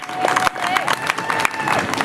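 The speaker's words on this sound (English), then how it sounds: "Let's give them a round of applause one more time." A crowd at a clean-water rally in Florida applauds children who walked onto the stage, with steady dense clapping and some cheering that carry on throughout.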